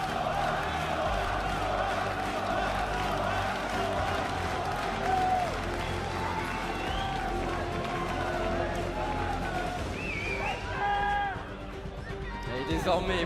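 A large esports crowd at the League of Legends 2015 World Championship opening ceremony roars and cheers steadily throughout, with an announcer's voice ringing over the noise.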